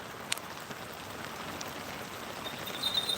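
Steady rain falls outdoors near a flock of sheep and their guard dog, a soft, even hiss of drops with a few faint isolated taps and no voices.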